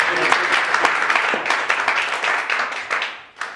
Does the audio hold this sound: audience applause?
yes